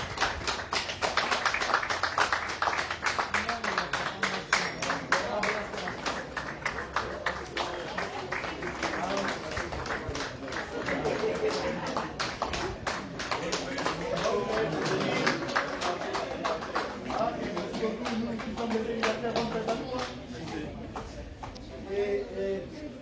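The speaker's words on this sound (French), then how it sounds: "Et on applaudit tout fort." Guests at a civil wedding ceremony clap loudly and continuously as the registry officials enter. The dense, crackling applause runs without a break while voices talk over it.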